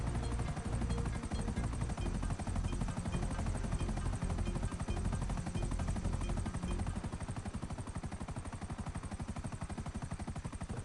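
A helicopter in GTA Online's Cayo Perico heist preparation missions makes a dense, continuous rotor chop, loud and steady throughout, easing off slightly toward the end. No voices are heard.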